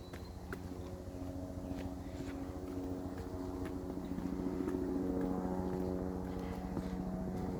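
Steady low droning engine hum with harmonic tones, growing slightly louder midway, a rotor-like drone passing above without any talk.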